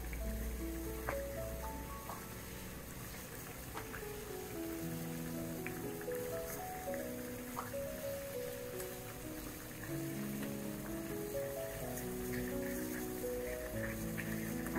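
Pangas fish heads rubbed with salt and turmeric fry in hot mustard oil, giving a soft, steady crackle and patter of sizzling with scattered pops, fairly quiet and close, with no talking.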